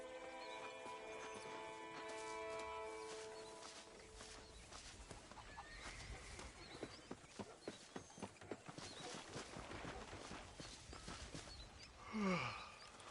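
Video-game horse hooves clip-clop in a steady rhythm, with fowl clucking faintly in the background and a brief horse call near the end.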